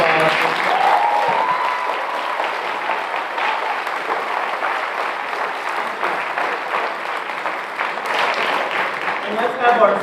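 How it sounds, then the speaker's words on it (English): A crowd at a high school graduation ceremony claps steadily for about ten seconds, a dense, even wash of applause with a slight swell near the end and faint voices mixed in. "Just give them a round of applause."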